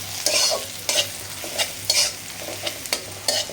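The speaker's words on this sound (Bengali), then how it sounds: "পেঁয়াজটা ভাজা ভাজা করে তারপরে" Onions frying in a pan, with spatula scrapes and stirs recurring about every half second over a steady close sizzle; no voices.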